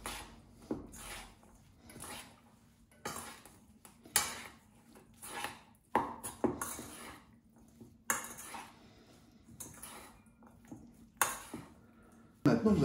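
Aubergine stuffing is mixed with pepper in a bowl, a spoon clinking and scraping against the dish in repeated quiet strokes with short pauses between them.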